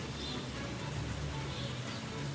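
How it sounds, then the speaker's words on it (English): Steady rain falling, a constant even hiss of drops on surfaces with no breaks, fairly soft and close. "Well, would you believe it, it's raining again."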